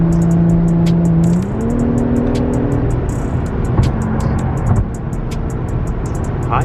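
An Infiniti Q50 sedan drives on a highway, its engine a steady, loud drone that rises in pitch as it accelerates, with continuous road and wind noise throughout and no talking.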